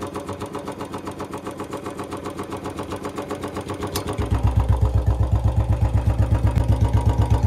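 A Royal Enfield Bullet 350 engine ticks over steadily, then after a few seconds settles into a louder, deep, rhythmic single-cylinder thump that carries on evenly to the end.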